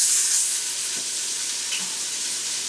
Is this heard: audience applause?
no